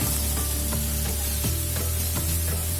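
Tomatoes sautéing in a pan for Patiala chicken, a loud steady sizzle with periodic scraping strokes of a spoon stirring the pan, close up and without talk.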